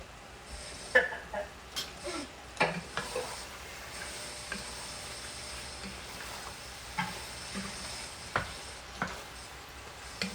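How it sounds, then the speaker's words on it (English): Chicken frying in a pan for biryani over medium-high heat: a steady sizzle with repeated clacks and scrapes of stirring, fairly close, with no talking. "So I have the chicken cooking"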